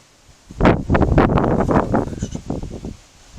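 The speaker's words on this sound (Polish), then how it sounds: "Wieje wiatr" A gust of wind in Pamplona rushes across the microphone for a couple of seconds, loud and rumbly, then fades to a softer blustery hiss.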